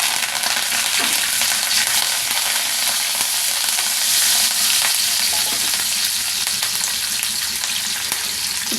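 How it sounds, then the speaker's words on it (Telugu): Curry leaves hit a hot tempering of mustard seeds, cumin and asafoetida in oil, giving a loud, dense, continuous sizzle with stirring scrapes, close up and with no talking. "కొంచెం కరివేపాకు కూడా వేసి వేయండి."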